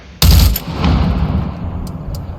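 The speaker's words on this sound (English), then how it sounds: "first of all, empty the rest of that mag." Gunfire from emptying a magazine in the VR shooter Into the Radius 2: a loud, abrupt burst of shots with a booming tail, followed by faint clicks.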